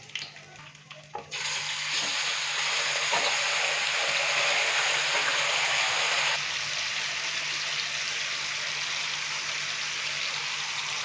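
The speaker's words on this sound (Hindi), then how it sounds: "तो अभी हम इसके अंदर चिकन डालेंगे, जिसको हमने पहले मैरिनेट करके तो साइड पे रखा हुआ था।" Marinated chicken dropped into a pan of lightly roasted cumin, bursting into a loud, steady sizzle after a brief quiet start, the frying hiss staying strong and close throughout.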